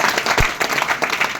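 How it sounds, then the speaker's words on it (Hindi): Brief, close burst of clapping from a small audience at an office motivational training session in Delhi, uneven individual claps with a slight thump, lasting just over a second. "एक बार जोरदार ताली होनी चाहिए।"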